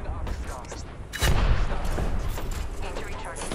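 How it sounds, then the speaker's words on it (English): Gunfire in Apex Legends, a burst of close, heavy shots erupting after a quieter moment, dense and loud for a couple of seconds. "Opening fire."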